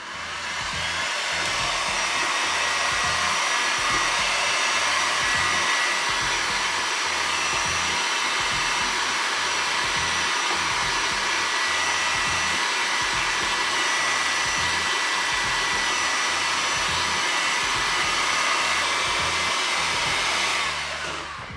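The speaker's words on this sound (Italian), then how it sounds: "Poi utilizziamo il phon per dargli una scaldata" A hair dryer blows steadily at close range, heating protective film on a mountain bike frame, a constant loud whooshing hum that stops right at the end.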